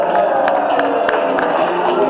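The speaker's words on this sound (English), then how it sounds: "Are you clapping for her or you're clapping for me?" Audience clapping and cheering at a political group's general meeting, a dense, steady crowd roar with scattered sharp claps, loud and close throughout, with voices mixed in.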